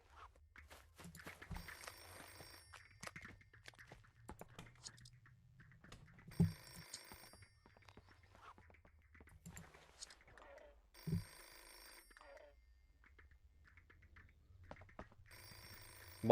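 A telephone rings in the video game Hello Neighbor 2, a faint repeated bell in short bursts with gaps between them, heard alongside footsteps and soft game ambience.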